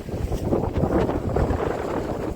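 Strong wind gusts across the microphone at the port of Santos, Brazil, near a large Maersk container ship, a steady loud roar with low buffeting throughout.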